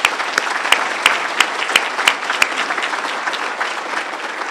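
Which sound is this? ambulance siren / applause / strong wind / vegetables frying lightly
applause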